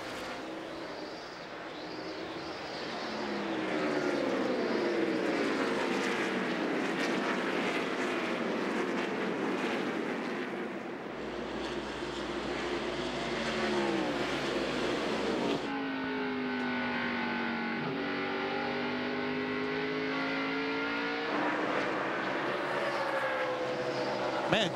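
NASCAR stock cars racing on track, their engines roaring and sweeping past in loud, shifting waves of pitch, mixed with crowd and broadcast ambience.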